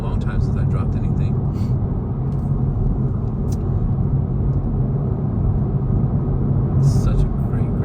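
A 2025 Honda Civic cruising on the road, heard as a steady low cabin rumble of engine and tyre noise throughout, with a person talking over it.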